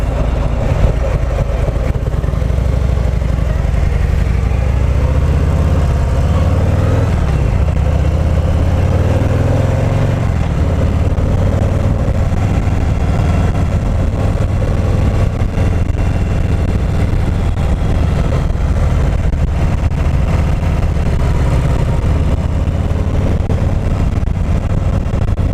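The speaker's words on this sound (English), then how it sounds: "That's a lot of motor for this bike for sure." A 2018 Harley-Davidson Heritage Classic motorcycle with the 114 V-twin engine runs steadily throughout, a loud, continuous low rumble that swells in pitch briefly as it revs, with no talking.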